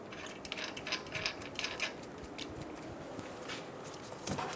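Someone tightens the axle nut on a Toyota Camry with a ratchet, producing faint, rapid clicking bursts in irregular runs against low background noise, with no talk.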